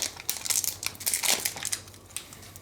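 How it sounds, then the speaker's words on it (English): A Magic: The Gathering Judgment booster pack wrapper being torn open and crinkled, close and fairly loud, in bursts of crackling foil plastic lasting a couple of seconds. "let's see what this Judgment pack holds for us"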